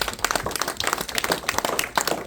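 A church congregation claps together in a burst of scattered, uneven applause at a service, fairly close and lively throughout.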